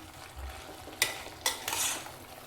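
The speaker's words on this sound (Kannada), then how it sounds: "ಇದೆಲ್ಲವನ್ನು ಸೇರಿಸಿ ಚೆನ್ನಾಗಿ ಒಂದ್ಸರಿ ಮಿಕ್ಸ್ ಮಾಡೋಣ" Spices, turmeric and tomato stirred together in a hot pan: a low sizzle broken by a few distinct scraping spoon strokes, the loudest bursts coming in quick succession near the end, no talking.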